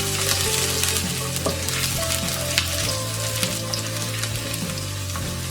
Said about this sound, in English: then we are going to saute the garlic. And we have to make it golden brown.